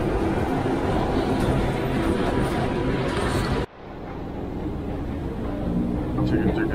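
Loud rumbling of a Bangkok metro train at a station platform, a steady roar that abruptly drops to a quieter hum as it slows or stops.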